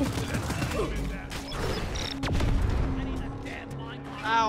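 Rapid gunfire from the video game Deep Rock Galactic, with bursts of shots, creature noises and game effects crowding together over a steady music and engine bed, loud and busy throughout.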